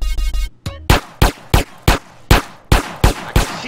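Gunshots in the video game GTA San Andreas, a sharp, loud series of about nine evenly spaced shots fired in quick rhythm.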